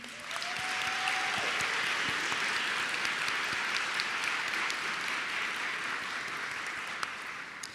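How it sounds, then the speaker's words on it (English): Sustained applause from an audience at an African American Credit Union Hall of Fame induction ceremony, steady and full for the whole span, with a brief voice and a tone near the start. "Can you please join me in a round of applause for them?"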